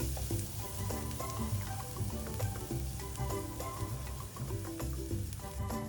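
Minced garlic and finely chopped onion sizzle steadily in melted butter in a pan, a close, dense crackle of frying that runs unbroken throughout with no voices.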